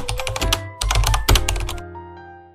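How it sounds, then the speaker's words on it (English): Fingers type on a computer keyboard in quick bursts of crisp clacks, up close, with short pauses between runs of keystrokes before the sound trails off. "It's a keyboard. We use a keyboard to type words."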